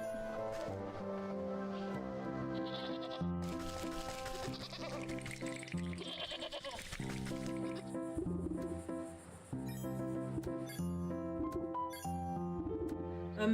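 A black sheep bleats in a video game over cheerful looping game music, with the animal calls fairly faint and blended into the melodic background rather than standing out.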